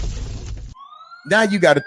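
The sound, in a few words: siren sound signalling the speaker's time is up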